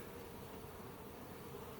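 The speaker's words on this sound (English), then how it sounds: "Let me move these bees out of the way a little bit." A steady, dense buzzing of many honeybees, close and continuous, with a low hum beneath the swarm's drone.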